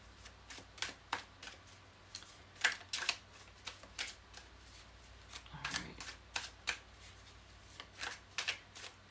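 Tarot cards are shuffled close up in quiet surroundings, a series of quick papery riffles and slaps in irregular bursts across the clip.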